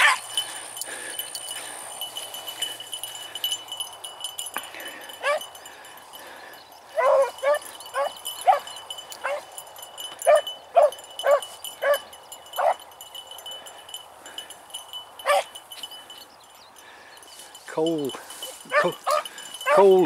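Hunting dogs bay and yelp while chasing a rabbit through cedar cover, a string of separate howling bays spread over the stretch, some close and some more distant, with quiet gaps between them.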